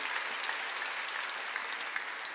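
A church congregation applauding during a Sunday service, steady dense clapping from many hands sustained throughout, fairly distant and even in loudness.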